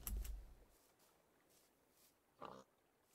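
A pig oinks in Minecraft, one quick grunting burst near the start and another short snort a couple of seconds later, with quiet game ambience between.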